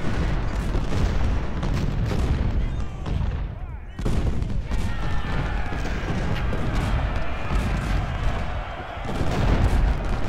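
Cannon and artillery fire in a Total War historical battle game, dense booms and gunfire rolling continuously under a busy battle din, with a brief lull midway before the barrage resumes.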